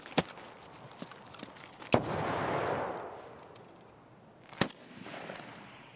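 Sniper gunfire in Escape From Tarkov: two sharp, loud single shots several seconds apart, with a fainter crack near the start and a rumbling echo and rolling noise spreading after the first big shot, no talking.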